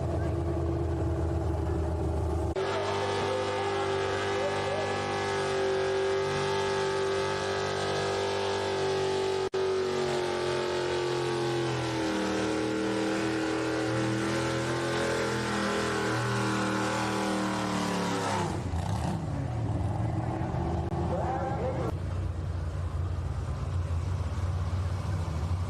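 1961 John Deere pulling tractor roaring at a tractor pull track in Beloit, Ohio, a loud sustained engine drone that rises and shifts in pitch before cutting off near the end, with an announcer talking over it.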